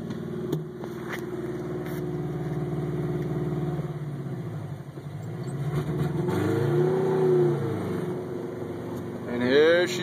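A 1984 Subaru with a freshly installed EA81 engine runs steadily and fairly loud close by, holding a high idle that will not settle down, with a rising rev swell near the end and talk over it.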